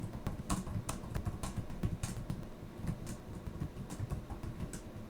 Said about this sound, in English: Now we type in the message.